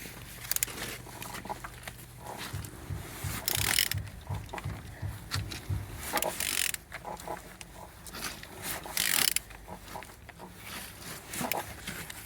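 A Renault K9K 836 diesel engine is turned over by hand, giving clicking ratchet and mechanical clunks in an irregular rhythm, with bursts of broadband noise between them.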